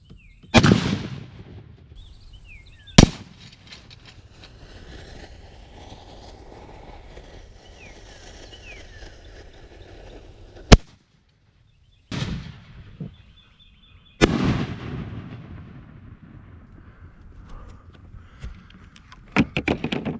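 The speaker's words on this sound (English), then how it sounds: "is how you set off a firework with a rifle" Rifle shots from a .308 setting off fireworks outdoors, several sharp loud cracks spaced seconds apart, each followed by fizzing, popping and echoing bursts, with quiet gaps between.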